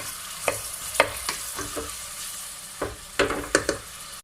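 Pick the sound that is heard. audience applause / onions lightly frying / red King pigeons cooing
onions lightly frying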